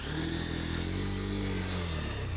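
An NX 200 motorcycle engine drones steadily and close as it struggles to climb a slippery clay slope, its revs holding a strained, even pitch with no pauses.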